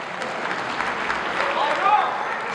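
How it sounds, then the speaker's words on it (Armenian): A celebration crowd applauds on cue in a dense, rising wash of clapping that swells toward the end, with scattered voices and a brief whistle mixed in. "Ես խնդրում եմ բարձր ծափել Արոյի պատվի ժողովուրդ ջան։"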